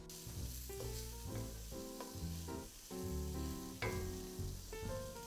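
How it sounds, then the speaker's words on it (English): Leeks frying in a pan for quiche Lorraine, a continuous crackling sizzle with stirring scrapes mixed in, soft and close, no talking. "going to cook the leeks until they are nice and cooked"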